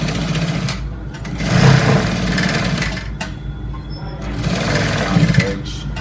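A sewing machine stitches trouser fabric along a curved seam, its motor whirring steadily and close by in long runs that swell and ease slightly, with no talk over it.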